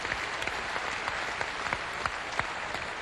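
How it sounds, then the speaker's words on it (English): An audience at a motivational stage hypnosis show applauds a volunteer, with a moderately faint, sustained patter of clapping in which a few sharper individual claps stand out. "Give him a round of applause, would you, folks?"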